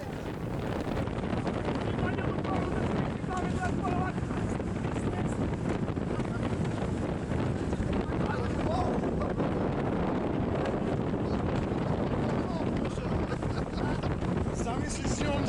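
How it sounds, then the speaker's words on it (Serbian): A small water taxi boat speeding across the sea off Corsica, with steady engine rumble, rushing water and heavy wind buffeting the microphone throughout, loud and continuous, with voices faintly mixed in. "devojka koja vozi ovaj taksi brodić pokazala sve svoje sposobnosti"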